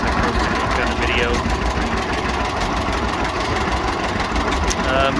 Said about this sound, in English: This is a 1936 model AR John Deere. That runs pretty good.